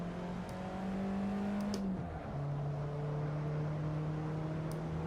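A road car built by a Formula 1 team takes a corner at the Barcelona circuit, its engine droning steadily, dipping in pitch as it shifts down mid-corner, then holding a lower tone; heard from inside, fairly quiet.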